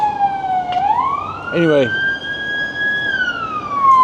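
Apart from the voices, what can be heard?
siren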